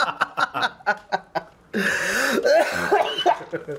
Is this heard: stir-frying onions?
no